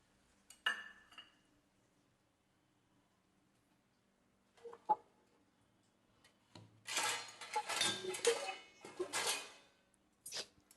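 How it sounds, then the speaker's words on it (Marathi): Gram flour stirred into ghee in a pan, with a few sharp utensil clinks early on, then a dense run of scraping and stirring against the pan near the end; no voices. "नंतर याला असं तेला तुपामध्ये भाजून घ्यायचं."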